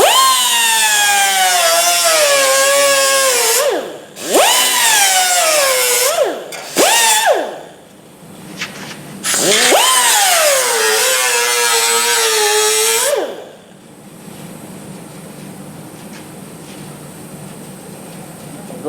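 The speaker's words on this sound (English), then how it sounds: "I'm doing it with the die grinder and cutoff wheel just because I want to go through just the top skin and not that inner skin" A die grinder with a cutoff wheel slices through the outer skin of an MG Midget's A-post body panel, a loud high whine that dips in pitch as the wheel bites, in several bursts with brief pauses, then trails off to a quieter hum.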